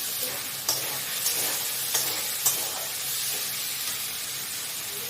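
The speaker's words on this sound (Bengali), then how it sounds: "এরপর আমি ভেজে রাখা আলুগুলো এর মধ্যে দিয়ে দেবো।" Fried potatoes and tomato sizzle in a hot pan for a soybean kofta curry, a steady broadband frying hiss broken by a few sharp clinks of a spoon stirring against the pan.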